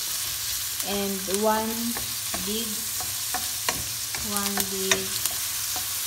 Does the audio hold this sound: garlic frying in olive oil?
yes